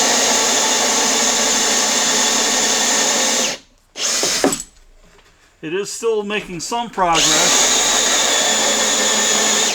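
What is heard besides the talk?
drill with Milwaukee 2-inch hole saw drilling holes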